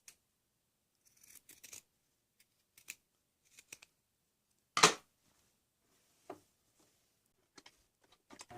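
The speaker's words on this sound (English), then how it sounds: "First I'll need to trim it a little near the sleeve opening." Scissors snip through t-shirt fabric near the sleeve opening in a handful of scattered, close cuts, with one sharp louder snip midway and quiet gaps between.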